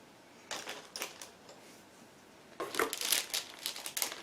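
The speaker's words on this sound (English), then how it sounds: "Last two sprues packed into the plastic bags. Just give me a second again to open them." Plastic bags holding sprues from a 1/48 scale MiG-31 model kit being opened, giving bursts of crinkling and rustling plastic close up, a few short handling sounds first, then a denser stretch of crackling.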